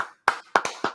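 A few sparse hand claps, about four distinct sharp slaps spaced irregularly in under a second, close and fairly quiet, with no voices alongside.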